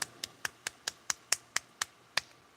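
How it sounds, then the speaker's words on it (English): A single person clapping for a round of applause, about eleven evenly spaced, crisp claps at a brisk steady pace, close and clear with nothing else heard. "Everyone give Dale a round of applause."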